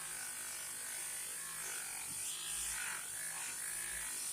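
A loose, floppy unsewn buffing wheel with white rouge polishes a restored Stilson pipe wrench, giving a steady, continuous motor whir and high buzzing hum throughout, close and fairly loud with no talking.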